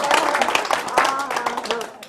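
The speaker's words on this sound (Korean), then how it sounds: "박수 한번 부탁드리겠습니다" Seniors clapping at a farmers' cooperative silver college lecture in Okgwa, scattered hand claps mixed with talking voices over a short stretch.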